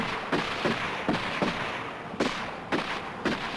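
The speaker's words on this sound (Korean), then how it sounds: "뒤이어 들리는 총소리" A series of sharp, loud gunshots, roughly eight shots fired at irregular intervals over a noisy, echoing background, as bound young men are executed by firing squad in North Korea.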